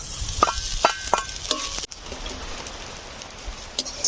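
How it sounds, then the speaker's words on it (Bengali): Dried fish sizzles in hot oil alongside fried onion and garlic, a crackling hiss dotted with metallic clinks and stirring taps from a utensil in the pan. "ফের এই শুটকি মাছটা দেবো তেলের ওপর।"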